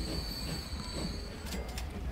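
A train running in the video game Transport Fever, a steady rolling rumble of wagons with metallic wheel squeals and faint clatter, continuous and moderately loud with no talking.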